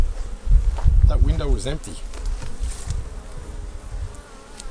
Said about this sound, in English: And now I can see bees working actively.